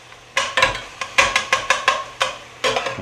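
Browning sausage in a pan on medium heat is chopped through with a utensil, giving about ten sharp, regular scraping chops against the pan over a faint sizzle.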